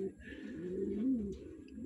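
Racing pigeons at a race loft in San Narciso, Quezon, cooing: a faint, low, rolling coo repeated in soft bursts against quiet background noise.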